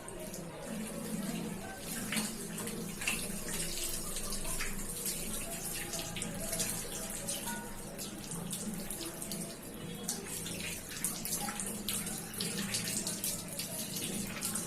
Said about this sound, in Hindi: हाथों को जो अच्छे से पानी से धो के उसके बाद टैप बंद कर लिया